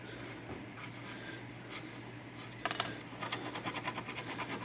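A razor blade scrapes old, hardened masking tape off a typewriter body, a faint close scratching with a sharp click midway, then a run of rhythmic strokes.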